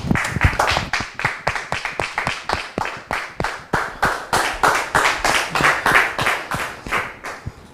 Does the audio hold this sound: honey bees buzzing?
no